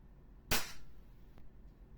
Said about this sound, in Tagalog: EMG Pit Viper John Wick 4 All Black. Firing.